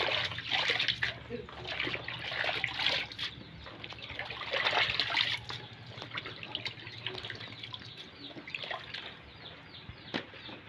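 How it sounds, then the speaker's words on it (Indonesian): Water from freshly washed food drips and trickles as it drains, a steady close splashing and dribbling with scattered louder drops, while a person talks over it. "Dan ini nunggu tiris dulu airnya biar habis."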